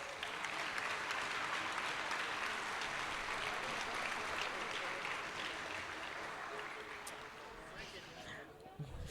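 A crowd at a miniature-painting awards ceremony applauds steadily, a soft even wash of clapping that holds throughout and thins slightly near the end, with faint voices mixed in.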